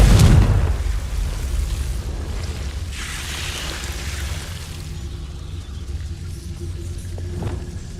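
Confringo blasting spell in Hogwarts Legacy: a heavy explosive boom at the start settling into a low sustained rumble and hiss, with faint crackles trailing off.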